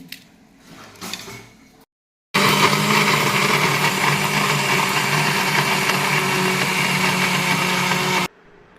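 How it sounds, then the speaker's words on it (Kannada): A kitchen mixer grinder whirs loudly and steadily for about six seconds, grinding coconut, green chillies, garlic and coriander into a chutney, after a few faint handling sounds and a brief silence. "ಮಿಕ್ಸಿಗೆ ಹಾಕೊಂಡೆ ನೋಡ್ರಿ ಇದೆಲ್ಲನೂ"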